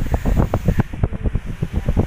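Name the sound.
strong wind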